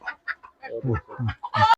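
A young black-and-white Kurunkali (short-legged native) rooster, about seven months old, gives a short burst of close, clear clucks and chuckling calls ending in a louder note.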